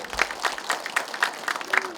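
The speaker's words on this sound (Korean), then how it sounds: "우리 사회자님한테 박수 한번 주시죠." Audience applause for the host at a talk concert, a dense patter of clapping from a crowd that stays steady and moderately loud for the whole stretch.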